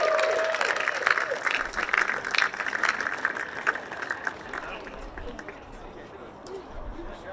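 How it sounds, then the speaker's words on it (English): Audience at a visitor center ribbon-cutting giving a round of applause, a broad steady wash of many hands clapping that slowly fades, with some crowd voices mixed in. "Give yourselves a round of applause"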